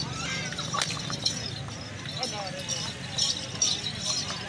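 Hoofbeats of a dancer horse at a village horse market in Punjab, irregular clip-clop thuds and stamps moving close by amid crowd noise and several people talking and cheering.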